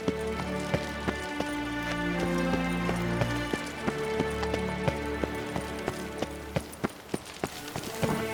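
Roach the horse galloping in the video game Witcher 3, a steady run of hoof clip-clops over a sustained musical backdrop, the hoofbeats growing sharper and more distinct toward the end.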